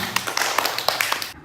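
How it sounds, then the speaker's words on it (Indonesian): Quick burst of classroom applause from students in a junior high school lesson, a short patter of light claps ending abruptly after about a second and a half. "Tepuk tangan."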